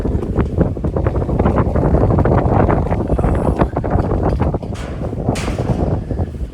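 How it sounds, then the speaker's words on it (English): Strong wind buffets the microphone in loud, rumbling gusts on a high ridge trail on Isle Royale, with no one speaking. "It's windy."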